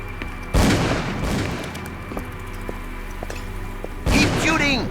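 Gunshots from a firearm in Call of Cthulhu: Dark Corners of the Earth, two loud, sharp blasts a few seconds apart with lighter clatter and a low rumbling ambience between them.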